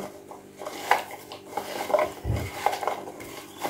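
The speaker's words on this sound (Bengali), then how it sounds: "এখন হচ্ছে আমি হাত দিয়ে মেখে নেব।" Guava tossed with spicy masala by hand in a dish, with soft squelching, rubbing and clinking against the dish in short irregular bursts, close and fairly quiet.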